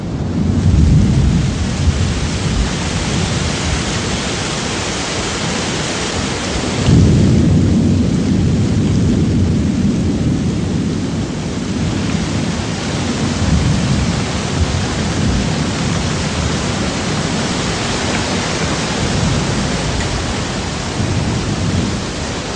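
An afternoon tropical thunderstorm in northern Australia's Top End near Port Keats: heavy rain hisses steadily while deep thunder rolls and rumbles loudly, with a strong burst around the middle, no voices.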